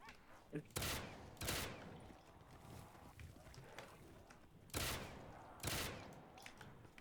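A two-round burst rifle in Call of Duty Black Ops 3 custom zombies fires in two paired bursts, each a quick double crack, loud and close, with someone talking faintly between them.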